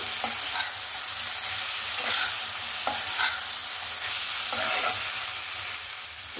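Vegetables being stirred with spices and sugar in a pan for a drumstick (sajna data) mustard-poppy seed dish: steady scraping stirs recur about once a second over a soft sizzle, close and alone.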